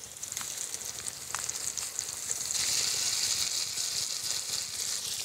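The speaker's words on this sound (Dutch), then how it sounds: "Ondertussen dat mijn appeltjes staan te bakken" Apples fry with a little sugar in a hot pan, sizzling and spitting in a continuous crackling hiss that swells louder partway through, with occasional pops.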